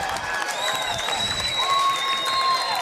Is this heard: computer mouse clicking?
no